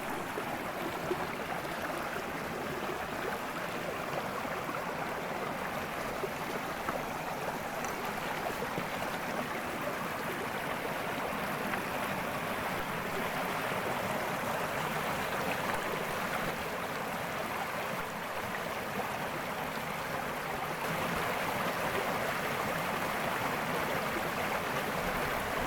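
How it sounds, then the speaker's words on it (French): A small forest stream flows steadily with a continuous, fairly strong broadband rush and trickle, constant throughout without pauses or voices. "Et au milieu, il y a un petit ruisseau qui coule. Il coule pas mal d'ailleurs."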